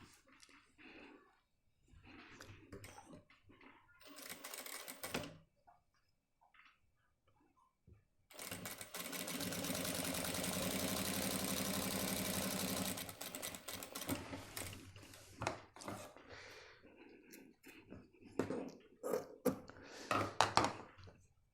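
A sewing machine stitches a shirt sleeve cuff in short bursts with quiet pauses between them, then runs in one long, steady, loud stretch of stitching before returning to brief stop-start runs.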